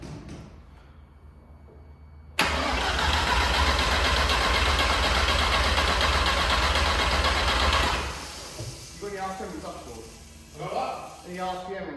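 A newly fitted car engine fires up after a short crank and runs loud and steady for about five seconds, then drops to a quieter idle while people talk over it.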